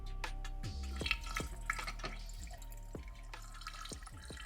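Water drips in a steady rhythm of distinct close plinks, several per second, running from an old water pump during a leak test, with a faint trickle underneath.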